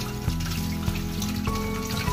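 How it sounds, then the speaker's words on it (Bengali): Small fish are rinsed under running water in a kitchen, a steady splashing trickle with a few louder sloshes as they are handled. "মাছটাকে একটু ধুয়ে নেব"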